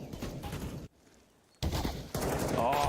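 Rapid automatic gunfire rattles in bursts during a professional Counter-Strike match at a major tournament, loud and dense, cutting out for a moment before resuming.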